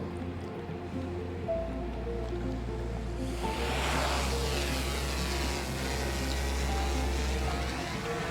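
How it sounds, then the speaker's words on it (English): An M30T thermal drone lifting off for a commercial roof inspection: a steady close rotor hum with tonal motor lines, then a rushing, wind-like surge about three seconds in as it climbs. No talk. "So the drone is just now taking off."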